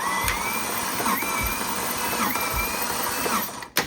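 A BMW M5 V10 engine cranking on its starter during a compression test: a steady, loud mechanical whir with rhythmic pulses roughly every 1.2 seconds, running continuously for nearly four seconds before cutting off.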